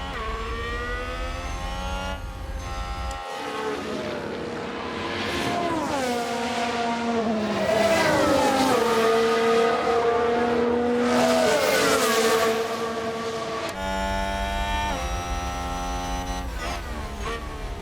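Formula 1 cars in F1 Manager 2022 at the Hungarian Grand Prix scream past with high, rising and falling engine whines as they shift through gears, a steady, loud racing drone with passing cars.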